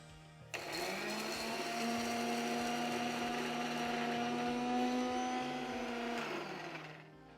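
A blender mixing rose petals with china clay runs for about seven seconds, a steady whirring motor hum that starts abruptly, holds an even pitch, then winds down, alone and close.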